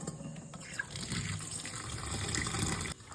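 Small potatoes are rinsed under a running tap, a steady close splash of water into a sink with shifting gurgles and knocks, cut off sharply near the end, with no talking.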